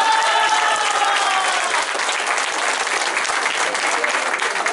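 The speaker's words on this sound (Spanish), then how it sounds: "un fuerte aplauso para ellos." Sustained applause from a crowd at a public works inauguration, steady clapping throughout with no breaks.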